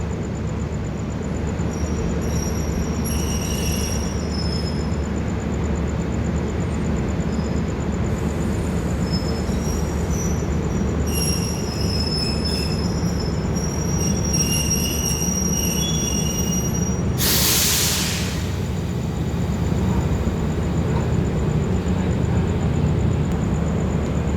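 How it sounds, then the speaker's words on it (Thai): Trains roll into Bangkok railway station at night, a steady loud rumble of wheels and carriages with high metallic wheel squeals ringing throughout and a brief hissing burst near the end. "ทั้งขบวนพิเศษ ขบวนนำเที่ยว ขบวนธรรมดา ทยอยเข้าสถานีกรุงเทพ"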